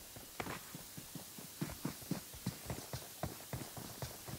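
Horse hooves in the PUBG Mobile video game clip-clop in a quick, regular rhythm of many distinct steps, faint and steady throughout with no voices on top.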